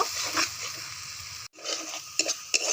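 Onion paste with black cumin fries in oil for a prawn curry, making a soft sizzle broken by a brief pause and a few stirring scrapes and clicks.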